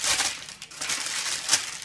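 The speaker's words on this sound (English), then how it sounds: "I took a parchment and then I will crumple it up" A sheet of parchment paper crumpled by hand for lining a cookie sheet, close crinkly rustling in quick bursts for a couple of seconds, with no talking.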